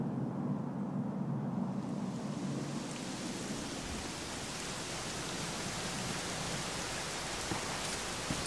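Steady rain pouring down in a Dragon Quest XI S game scene, a dense even hiss of heavy rainfall with a deeper rumbling wash at the start, continuous throughout.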